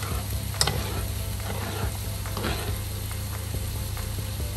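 A spoonful of soy sauce hits a hot frying pan, bringing a constant crackling sizzle with scattered utensil scrapes and stirring noises, close and steady, with no voices.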